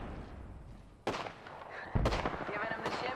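Sharp gunshots from the video game Apex Legends crack out in separate bursts with short gaps between them, set against game background noise and faint voice lines.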